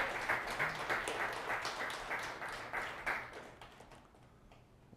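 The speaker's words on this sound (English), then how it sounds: "You can clap. It's cool." Scattered audience clapping at a tech talk, a moderate cluster of claps that thins out and fades toward the end.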